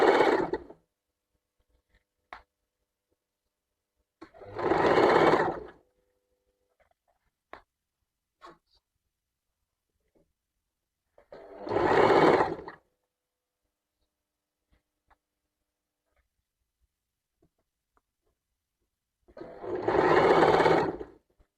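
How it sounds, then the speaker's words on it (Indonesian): A sewing machine stitches a hem or seam a few millimetres from the fabric edge, running in four separate bursts of about a second each, a steady close whir, with faint clicks and handling noises in the quiet gaps. "Dijahit beberapa mili dari tepi."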